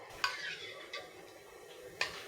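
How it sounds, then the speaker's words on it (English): A spoon scrapes and clinks against a pot while Indonesian chicken opor braises in coconut milk, a few soft metallic taps over a low simmering hiss, close and quiet. "And don't forget to keep stirring it."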